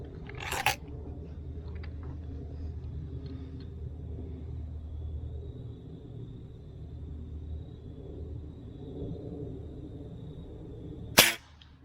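A Diana 34 T06 Classic air rifle firing .177 pellets at a 20-yard target: two sharp, isolated shots about eleven seconds apart over a quiet low rumble.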